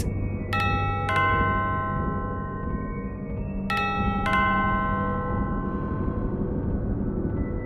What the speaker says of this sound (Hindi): कानों में डोरबेल की आवाज